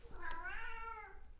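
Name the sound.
pet cat meowing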